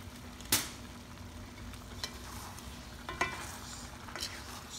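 Tamarind mix being stirred into dinuguan in a pan, with faint low sizzling and a few soft scraping clinks of a utensil spaced through the stretch, no talk.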